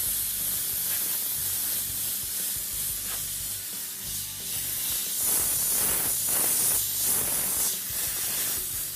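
A steady, close hiss of spray paint coats a car with flame artwork, running almost continuously with slight swells and dips in strength.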